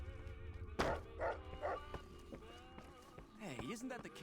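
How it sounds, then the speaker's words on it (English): Barking from the King's dog, Rex, in the game Fallout New Vegas: a few sharp yips and barks up close, mixed with a speaking voice and game sounds. "isn't that the king's dog?"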